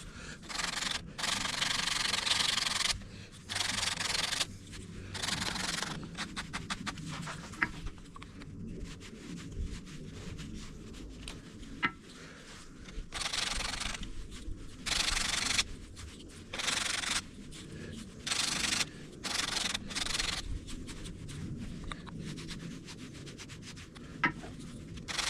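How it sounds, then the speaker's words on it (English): A brass hammer is sanded by hand in quick repeated rubbing strokes, close and fairly quiet, with short gaps between bursts. "All right, just a little more sanding."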